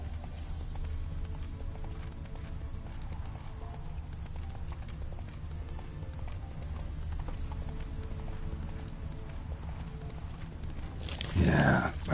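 Roach the horse gallops in The Witcher 3, with steady clip-clop hoofbeats running throughout at a constant pace, plus a brief louder whinny or burst near the end.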